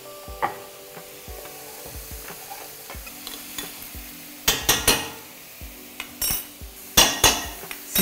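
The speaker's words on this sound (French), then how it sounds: "À ce moment-là, on va rajouter l'ail et le gingembre" Finely chopped garlic and ginger fry over high heat in a pan, a steady sizzle under repeated clattering spoon strokes and scraping against the metal, loudest in a few sharp bursts.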